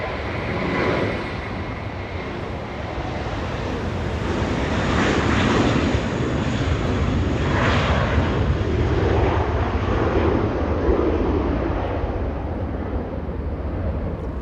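American Airlines flight 739 jet climbing out on a rare north departure from Los Angeles International Airport, a steady broad engine roar that swells mid-clip and holds, mixed with wind rumble, no talking.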